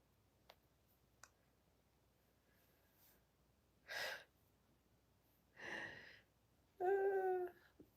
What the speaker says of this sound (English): My cat's snoring back there.